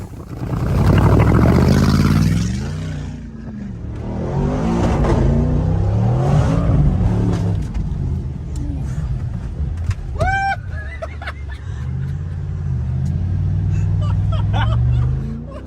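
A Mercedes G63 engine revs hard, then settles into a gurgling, bubbling drone as it moves through water with its exhaust submerged, with a brief squeal midway.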